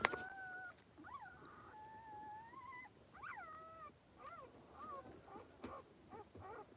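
Puppies from a litter of eight whimper and whine in a series of thin, rising cries, some drawn out and some short, fairly close over a low background hum.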